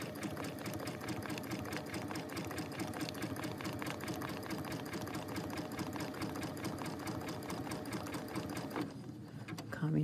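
A sewing machine stitches reverse applique on a holiday bloom quilt piece, running in a rapid steady mechanical rhythm close by, then pausing briefly at the end for a pivot.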